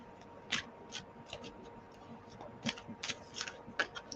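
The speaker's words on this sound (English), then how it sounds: "Give them a good shuffle." Tarot cards are shuffled by hand during an astrology reading, giving quiet, sparse riffles and taps spaced irregularly against a soft, low background.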